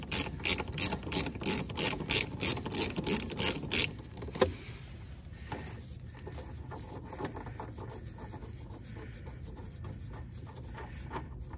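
A ratchet loosens a 17 mm nut on the stabilizer bar of a Mercedes W126 during upper ball joint work, giving about a dozen quick, evenly spaced clicks up close, then a few faint metallic taps and quiet handling.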